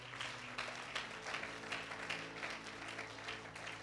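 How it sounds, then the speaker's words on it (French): A church congregation applauds and cheers for the Lord during a French-language service, steady dense clapping at low level over a sustained musical tone, with scattered louder claps throughout. "Acclame pour le Seigneur."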